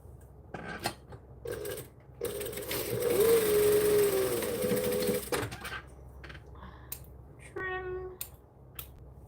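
A sewing machine stitches a custom bag. It starts with short taps and clicks, then settles into a sustained motor whir with a rising and falling pitch for about three seconds. A few more clicks and a brief whine follow.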